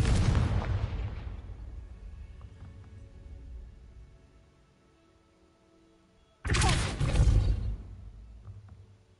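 Two heavy explosions from a Confringo blasting curse in a Harry Potter video game: a loud booming blast at the start that slowly decays into rumble, then a second sudden deep blast partway through.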